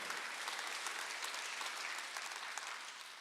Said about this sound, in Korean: 믿으시고 박수 하세요